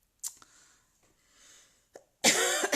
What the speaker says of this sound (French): Ça y est, je commence à tousser.